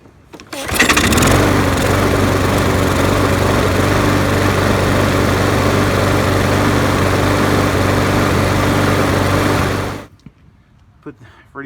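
A trash-picked 2011 Yard Machines lawn mower engine starts after a quick pull and runs steadily at a loud, close, even drone for about nine seconds before cutting off abruptly.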